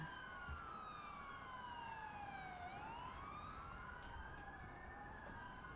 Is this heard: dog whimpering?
no